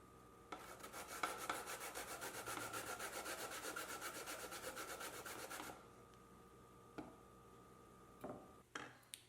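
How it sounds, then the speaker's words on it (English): Cassava grated by hand on a grater, a fast steady run of rasping strokes for several seconds that stops and gives way to a few scattered knocks and handling sounds. "Now I'm going to grate 4 cups of cassava."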